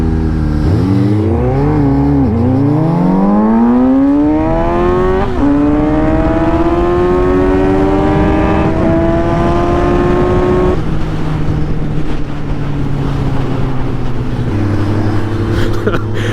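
A Suzuki GSX-8S motorcycle engine rises through the gears while riding, loud and close, with repeated climbing revs and shifts before settling into a steadier cruise.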